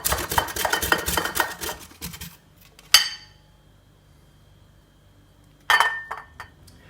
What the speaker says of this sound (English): And now grate the turmeric.